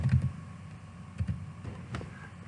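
Quiet typing on a computer keyboard: a few soft, scattered key clicks close by over a faint background.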